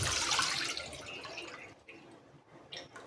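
A gram flour and yogurt mixture for Gujarati kadhi is poured into a pot on a gas stove, making a steady liquid splashing rush that is loudest at first, then thins into softer trickles and drips, with no talking.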